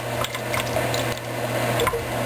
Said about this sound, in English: So here's the water, and just dump it out.